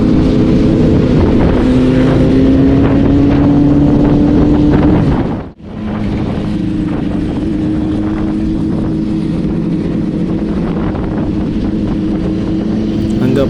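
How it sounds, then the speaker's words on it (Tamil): A Triumph Street Triple motorcycle rides through Pondicherry with a loud, steady engine drone whose tone climbs gradually. It cuts out sharply for a moment, then carries on with wind rush over the microphone. "அங்கே பாருங்கள் ட்ரையாம் ஸ்ட்ரீட் ட்ரிபிள் சவுண்டு சும்மா வேறு லெவலில் இருக்குங்க."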